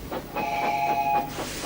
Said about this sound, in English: Just then, an engine from the other railway came in with the milk train.